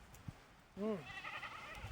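A goat bleats once, close and clear, a wavering nasal call with rising harmonics, followed by a fainter second bleat from the herd amid low background murmur outdoors in rural Rajasthan.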